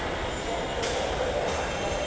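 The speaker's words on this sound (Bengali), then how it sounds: "এই রেল স্টেশন আসার শব্দ শোনা যাচ্ছে" A Dhaka metro rail train pulls into a clean elevated station on the Diabari to Motijheel line, a steady close rumble of wheels on rails with brief brighter hissing surges, no voices.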